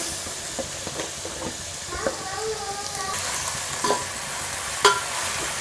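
Marinated chicken for biryani frying in a pan, a broad hissing sizzle with steam and occasional stirring scrapes and knocks, close and steady, with faint talk in the background.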